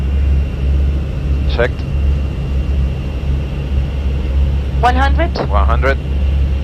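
Airbus A320 engines in Microsoft Flight Simulator 2020 hold a steady, loud low roar at takeoff power during the runway roll out of Zurich Airport, while pilots make brief callouts over it.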